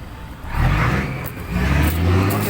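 A truck's 6m70 double-EGR diesel engine revs up twice, swelling into two loud low bursts of acceleration with a steady rumble between them.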